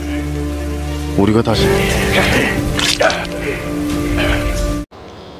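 Steady heavy rain pours through a film fight scene, a dense hiss under a man's speech, with a sharp crack partway through before the sound cuts off abruptly.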